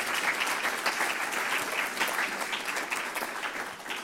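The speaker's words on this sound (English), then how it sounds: "Let's give them a round of applause" Sustained applause from a luncheon audience at a Columbus Metropolitan Club forum, a dense steady patter of many hands held at an even level for the whole stretch, with no voices over it.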